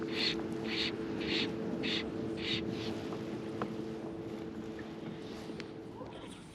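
Small boat driven by an electric motor across Pejar Dam while trout fishing with a drogue: a steady low motor hum runs throughout under wind, with a short series of high chirps early on.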